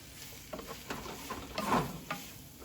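Chicken stirred around in a hot pan with medium-high heat, steady sizzle under repeated scraping and clacking strokes of the utensil, close and clear with no voices.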